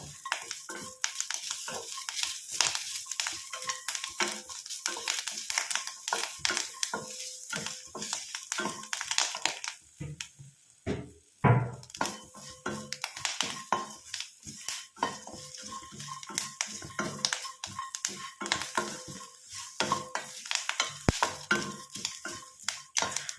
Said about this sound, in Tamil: ஆனால் தேங்காய் வந்து நல்லா கரு கருன்னு வர வரைக்கும் நம்ம இதை வந்து கறிச்சு எடுத்துக்கணும்